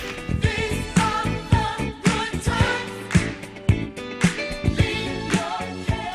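Disco-funk bass riff, sampled in a 1979 hit, plays as a loud, steady groove with punchy drum hits and a full backing band.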